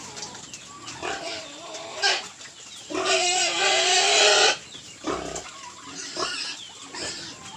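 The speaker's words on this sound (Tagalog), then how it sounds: "So ito po yung ating mga bagong biik ka-farmers" Newly delivered Large White piglets in a pen squeal and grunt in overlapping, rising bursts, close and loud, with one sustained shrill stretch in the middle.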